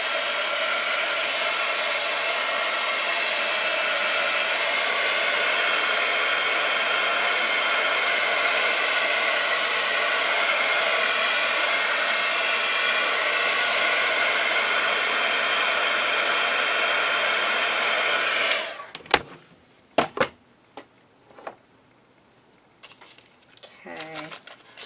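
A heat tool blows steadily and loudly for about eighteen seconds while drying painted journal papers, then cuts off, leaving a few faint handling clicks and rustles.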